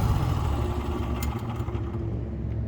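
The engine of a Kompak 52-foot boom lift rumbles low and steady, then fades as it winds down to a stop, heard up close without speech.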